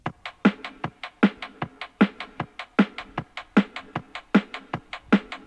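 A mid-range electronic drum kit pattern plays alone in a music production session, with crisp, evenly spaced hits in a steady, quick rhythm and a brighter accent recurring on every beat.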